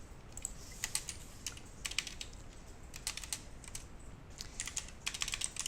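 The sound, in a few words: computer keyboard keys pressed, Alt+Delete shortcut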